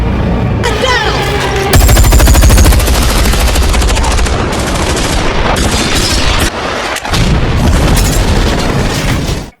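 Loud, sustained automatic gunfire from guards fighting back during a film heist scene, dense rapid bursts with booming impacts running nearly nonstop, with a short break near the end before firing resumes.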